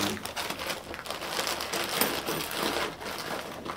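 A Ziploc plastic bag holding small tissue packs is handled close up, giving continuous dense crinkling and rustling for a few seconds with no talking.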